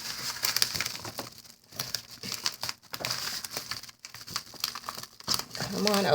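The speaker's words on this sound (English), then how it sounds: "I just don't like to just rip my packages open." A plastic mailer package is crinkled and pulled open by hand indoors, a steady run of close, rustling crackles and crumpling with brief pauses, while someone talks partway through.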